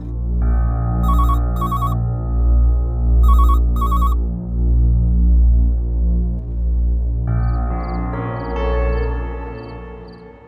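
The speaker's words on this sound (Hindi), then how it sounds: "फोन बज रहा है, आवाज नहीं आ रही क्या?" Telephone ringing in repeated bursts of bright electronic ring tones over a loud, steady low hum and throbbing background music, with a different melodic ringtone pattern taking over near the end.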